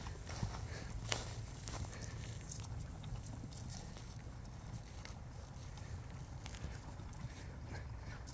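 A shod horse walks with a steady clip-clop of hooves, heard over a constant broad background rush outdoors, with occasional faint voices.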